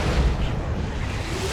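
A grenade blast in the strategy game Warhammer 40,000: Dawn of War 2, a loud, heavy booming explosion with a rumbling low tail that fills the short moment.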